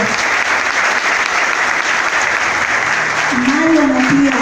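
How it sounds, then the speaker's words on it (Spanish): Audience applause at a Marcha Verde public gathering in Tamboril, steady dense clapping from a crowd throughout, with a voice briefly rising over it near the end. "El doctor Siderio, fuerte el aplauso para Siderio."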